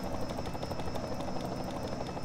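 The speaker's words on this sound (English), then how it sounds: "If only I could turn the helicopter down." Helicopter rotor drone in a video game race broadcast of a Daytona road course event, a steady loud throbbing wash that stays constant throughout.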